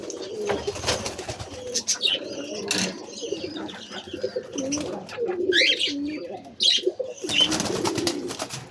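Pigeons settling into a new loft coo in low, repeated rolling calls close by, mixed with brief chirps, rustling, and a short flutter of wings, with faint speech in the background.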